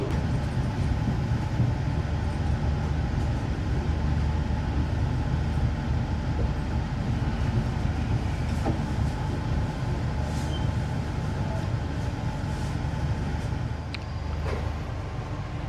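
Inside the Logawa train on its approach into Jember station, a continuous steady rumble of the moving carriage with faint rattles and clicks over the top and no voices.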